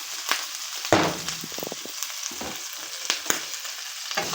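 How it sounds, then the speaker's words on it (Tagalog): Pork sautéing with onion and garlic in a pan for a home-cooked Filipino dish, a steady close sizzle and frying hiss with a few scraping stir strokes, no talking. "Saute lang ng konti yan"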